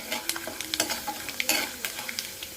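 Turmeric and chili powder frying in hot oil with a soft, steady sizzle, punctuated by frequent light scrapes and clicks of stirring, close and fairly quiet, with no voices.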